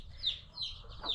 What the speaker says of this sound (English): we have like chickens around